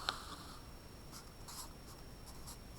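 A pencil or pen writes a title across paper on a desk, producing a few faint, scratchy strokes in short bursts, quiet and close, with no talking.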